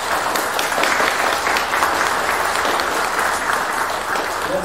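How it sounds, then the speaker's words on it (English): Church congregation applauding during a Lutheran worship service, a sustained even roar of clapping from many people filling the whole stretch without talk. "I invite you to show your encouragement and support with your applause"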